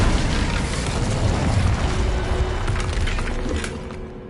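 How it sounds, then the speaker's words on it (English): A fire spell in Hogwarts Legacy blasts through a magical barrier, producing a sustained loud rumbling burst with crackling debris that fades slightly toward the end. "Another barrier. We can blast through it, I'm certain."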